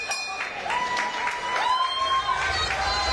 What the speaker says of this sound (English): So thunderous applause.